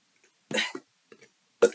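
A single short burp during a relaxed livestream talk about meditation, sounding close and fairly quiet, with a brief voiced bit before it and another short vocal burst after.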